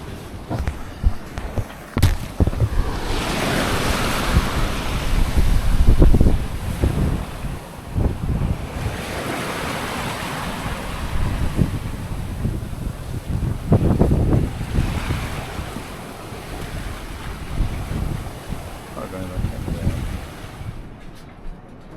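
Strong wind buffets the microphone while waves surge and wash past a sailboat at sea at night off Cape Hatteras, gusts rising and falling in long swells, loud and close, with no speech.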